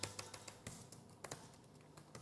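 Fingers tap on a computer keyboard with a faulty E key, producing a quiet, irregular run of soft clicks spaced unevenly over a couple of seconds, with no talking.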